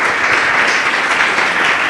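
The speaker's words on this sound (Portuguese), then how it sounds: "Louve a Ele com suas palmas, bem forte" A church congregation claps loudly and steadily together in a dense, continuous burst of applause, with no pauses.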